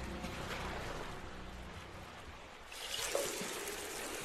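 Water trickles from broken sinks in a bathroom level of a horror video game, a steady, close, hissing dribble that runs throughout and swells briefly near the end, with no speech.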